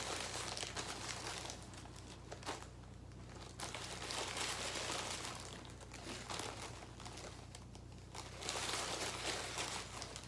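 Paper slips being shuffled and stirred by hand for a random prompt draw, giving a steady, close crinkling and rustling that runs the whole time with no talk over it.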